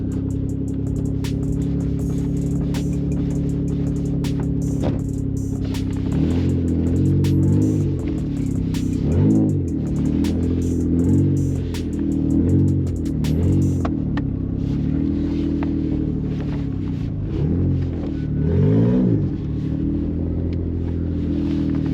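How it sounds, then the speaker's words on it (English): A right-hand drive GTO rumbles along with a low, steady engine drone, swelling in several revving surges during the drive, heard from inside the cabin without talk. "Driving a right-hand drive car."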